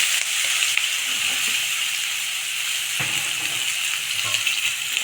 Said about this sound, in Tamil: இப்போ நல்லா வதக்கி விட்டுக்கலாங்க நிதானமாக வறுக்கணும்